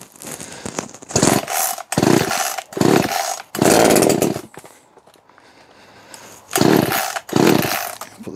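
A BUKO 10 inch petrol chainsaw sputters to life in several loud, close bursts of revving engine separated by short pauses and a quiet idle stretch.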